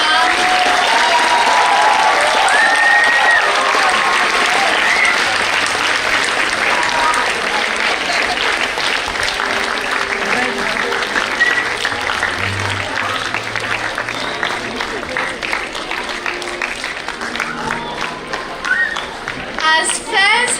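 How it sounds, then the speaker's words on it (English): An audience at a literary arts event breaks into sustained applause, a dense, steady wash of many hands clapping that lasts about twenty seconds, with occasional voices mixed in. "can we have a thunderous round of applause for ma'am?"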